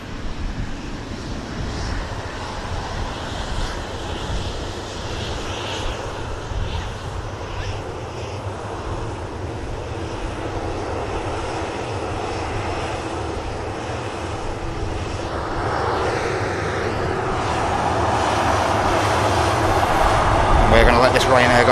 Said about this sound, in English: Turkish should rotate somewhere around here.